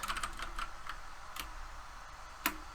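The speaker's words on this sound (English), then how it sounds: "You can hear my keyboard typing" Keys on a computer keyboard are tapped, a few quick clicks at the start followed by sparse, separate presses, faint and close with no voices.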